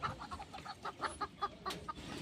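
Caged quails at a market give a steady series of short, sharp repeated calls, close and moderately loud, with a busy background murmur beneath them.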